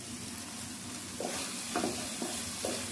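Onion and tomato fry in oil in an uncovered pan, a steady close sizzle with a few soft scraping stir strokes spaced through it.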